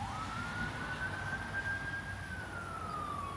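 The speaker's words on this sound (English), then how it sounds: "That's an ambulance, I guess." A distant ambulance siren wails in a single long, rising and falling tone over steady outdoor background noise near a home garden.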